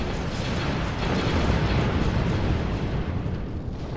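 Dense, continuous rumble of starship weapons fire and explosions from a space battle in the strategy game Sins of a Galactic Empire, with steady booming blasts layered over one another at a loud, sustained level and no pauses.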